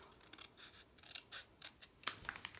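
Scissors snip through paper along a line for a winter treat box craft kit, a series of close, crisp cutting strokes with light scraping between them.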